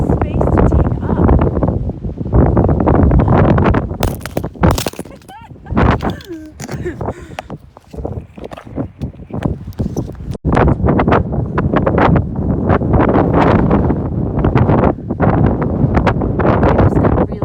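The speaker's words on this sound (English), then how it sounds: "It just got really windy as I started." Strong wind roars and buffets the microphone in loud, continuous gusts, with a brief lull and some rustling in the middle.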